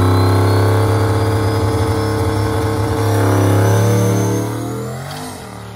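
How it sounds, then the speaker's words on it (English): A turbocharged Mustang launches down a street, its engine loud and close with a deep, steady, strongly harmonic drone that climbs slowly in pitch, then eases and fades as the car pulls away. "this is going to be the first time we've ever tried to launch this car"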